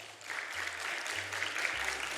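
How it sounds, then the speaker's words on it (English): Audience members at a panel discussion applaud themselves, a fairly quiet, even wash of clapping hands running throughout over a low steady tonal hum. "And can we give yourselves a round of applause?"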